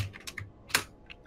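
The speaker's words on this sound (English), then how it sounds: "Type that command into console." Computer keyboard keys tapped while entering a console cheat command during a Portal 2 co-op game, giving a few scattered clicks with one sharper keystroke, up close and fairly quiet.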